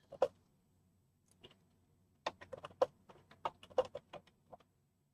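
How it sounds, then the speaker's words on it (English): Quiet, irregular clicking of typing on a computer keyboard, a single tap followed by a dense run of keystrokes, faint and distant with no voices. "No, I just heard him typing."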